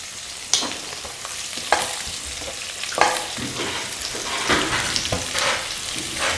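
Sliced medium onions and dried red chillies frying in a pan for red chilli chicken, a soft continuous sizzle broken by repeated scraping stirs and knocks of a spatula, close up with nobody talking.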